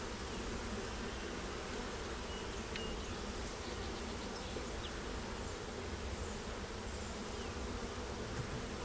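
Bees buzz steadily and loudly at close range throughout a backyard beehive inspection in spring, a dense continuous drone with no voices over it.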